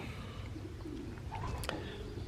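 Thoroughbred racing pigeons coo softly nearby with a few low calls, heard over quiet ambient noise.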